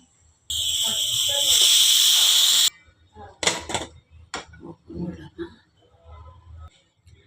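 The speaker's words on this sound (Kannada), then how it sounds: "ಕುಕ್ಕರ್ ಕ್ಲೋಸ್ ಮಾಡಿ ವಿಸಲ್ ಹಾಕ್ಬಿಡೋಣ" A pressure cooker on the stove, cooking soybean tomato pulao, lets out a loud, steady hissing whistle of steam for about two seconds. Scattered kitchen clatter and quiet voices follow.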